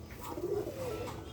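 Soft, low cooing from a small-beaked pigeon kept at home, a gentle rolling coo that rises and fades over a steady quiet background, close and alone with no talk.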